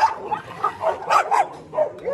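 Stray dogs at a mountain shelter caring for over 260 strays bark and yip in a string of close, loud bursts, with whimpering notes between the barks.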